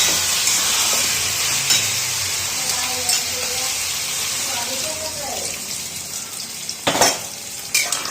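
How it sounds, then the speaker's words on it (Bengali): Water goes into a pan of spiced potato curry, the aloo dum masala hissing and sizzling steadily with stirring clatter and a few sharper bursts near the end, under faint background sounds. "এটা আমার কষানো হয়ে গেছে, এবার এটাকে আমি জল দিয়ে দেবো পরিমাণ মতো।"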